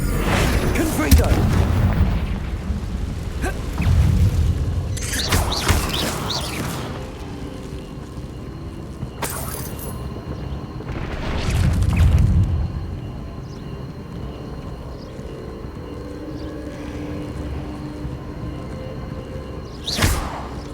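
Confringo blasting spells fired in Hogwarts Legacy around a ruined castle, several deep booming explosions spaced across a continuous rumbling game soundscape, with one loud blast standing out near the middle.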